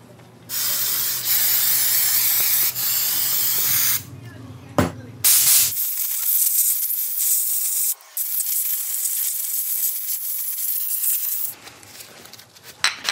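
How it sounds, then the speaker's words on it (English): Brake cleaner sprayed onto motorcycle brake parts in long hissing bursts, followed by a loud sustained blast of air from an air hose, with brief pauses between. "once we re-hit this with brake cleaner, we'll blast it out with the air hose"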